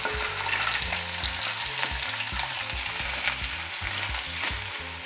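Potatoes, chickpeas and onions fry in a pan with a loud, continuous sizzle, close and steady, with a faint low hum running underneath.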